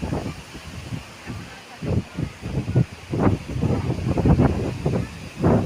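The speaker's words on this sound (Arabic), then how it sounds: "إذن بداية الرياح القوية" Strong gusting wind at the onset of a thunderstorm near Ourika and Ouarzazate in Morocco roars and buffets the microphone in swelling rushes, loud and close, with no talking over it.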